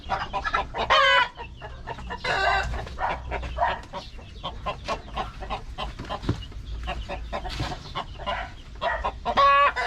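Rhode Island Red rooster on a farm, clucking repeatedly with bursts of loud crowing, close by amid other fowl noise and a low background hum.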